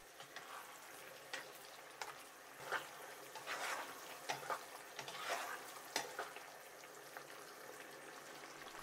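Beef meatballs sizzle gently in a pan while a utensil stirs them now and then, soft crackling frying with occasional scraping clicks, quiet and close, no voices.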